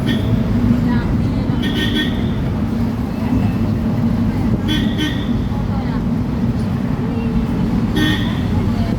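Metro train ride: a continuous low rumble and rattle of the moving carriage runs throughout at close range, with faint murmurs and occasional higher clatters on top.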